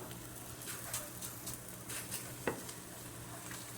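Cauliflower paratha frying in oil on a hot griddle, a continuous soft sizzle and crackle with scattered light pops and a sharper spatter near the middle, no voices.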